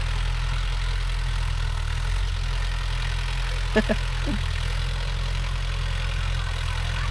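A Mahindra Yuvo Tech Plus 585 DI tractor in two-wheel drive labours with a nine-tine cultivator, its diesel engine giving a steady low drone throughout, with a couple of brief chirps midway.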